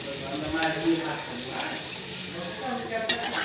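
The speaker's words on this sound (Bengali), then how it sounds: "আমি এখন ঝোলের জন্য জল দিয়ে দিব পরিমাণ মতো" Water poured into a sizzling pan of potato, eggplant and hilsa fish curry, a faint hiss and bubbling with soft stirring clinks, quiet and steady over a few seconds.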